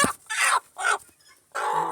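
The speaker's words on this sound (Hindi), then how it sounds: "और नीचे चिक्स की आवाज़ें आ रही हैं।" A black Aseel hen with newly hatched chicks, giving several close, loud bursts of clucking and peeping separated by short pauses, with no talking.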